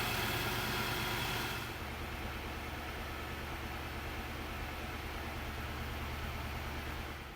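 An Infiniti QX80's engine idles smoothly after its throttle body was cleaned, a steady, even hum with a louder rush of noise at the start that settles into a constant drone.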